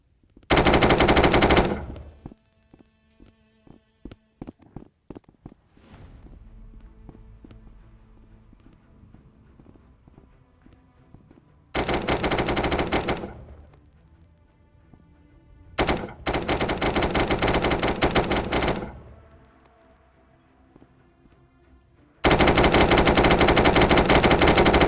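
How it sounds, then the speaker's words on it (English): Long bursts of rapid AR-15 automatic fire in a video game, loud and dense, alternating with quieter gaps holding sparse shots and faint clicks. "And plus, the AR-15s... Yeah, so you see, they have infinite ammo too."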